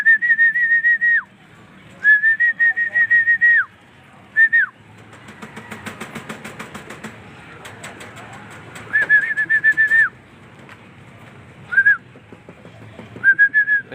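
A racing pigeon takes off with a brief burst of flapping wings in the middle, while loud, repeated human whistles sound before and after.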